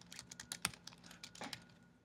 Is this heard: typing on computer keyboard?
yes